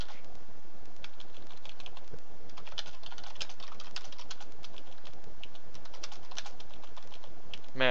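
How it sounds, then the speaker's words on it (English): Keyboard typing during Star Wars Battlefront 2 play with mods, a dense run of soft, fast key clicks going steadily for the whole stretch without any talk. "Man, I stink at typing."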